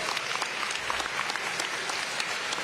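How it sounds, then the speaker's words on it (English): Applause from an audience at a live press event on a World Cup human trafficking bust, a dense, steady wash of many hands clapping close and loud throughout, with no one speaking over it. "We need one more round of applause."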